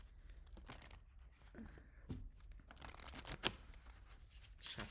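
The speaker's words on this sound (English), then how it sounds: "Give these another shuffle." A deck of tarot cards is shuffled close by with soft, quiet riffling and papery flicks, a run of brief card slaps and rustles with no voices over them.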